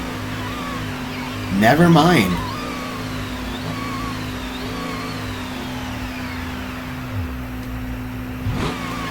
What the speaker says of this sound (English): forget the speed going like up to 50 miles per hour every 2 seconds while revving the engine